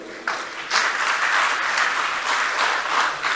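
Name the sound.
audience applause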